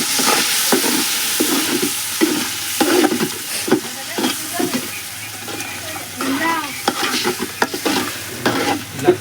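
A masala mix for fish curry is stirred in a frying pan, the spatula scraping in quick, repeated strokes over a sizzle, close and loud, with a faint voice now and then.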